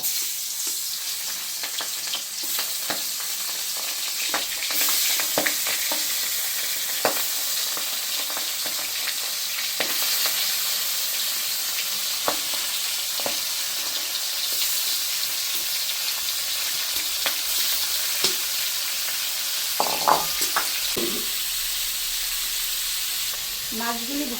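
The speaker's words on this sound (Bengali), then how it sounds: "আস্তে আস্তে মাছগুলি আমি কড়াইতে দিয়ে দেব" Air fish sizzling steadily as they fry in a wok, a dense continuous crackle with scattered pops and a few stirring knocks near the end.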